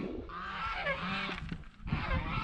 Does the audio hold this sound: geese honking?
yes